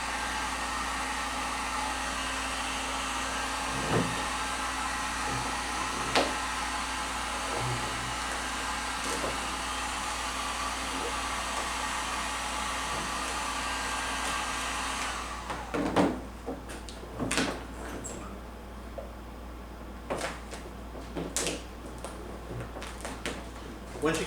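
A heat gun blowing hot air onto a car's vinyl wrap to loosen it for removal, a steady whirring hiss that runs for about fifteen seconds, then cuts out, leaving faint handling noises.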